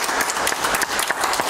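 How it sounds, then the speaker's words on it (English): A Sunday morning church congregation breaks into loud, close hand clapping, a thick continuous wash of many hands with no voices on top. "Give the Lord a hand clap this morning"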